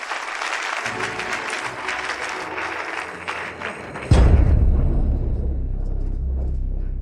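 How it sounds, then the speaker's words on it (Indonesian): Applause greets the bride at a wedding, crowd clapping for several seconds before a sudden low rumbling thump takes over and holds at a louder level. "mari kita sambut dengan tepuk tangan meriah, menyambut kehadiran sang mempelai wanita"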